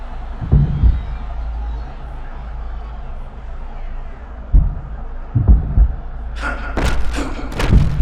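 A takedown slam in EA Sports UFC 6 during a Khabib Nurmagomedov vs Arman Tsarukyan bout lands as heavy low thuds, one early and a cluster later, over steady arena crowd ambience with some brighter impacts near the end.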